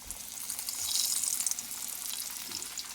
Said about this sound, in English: shake these out, all the excess flour, and then put it into my hot oil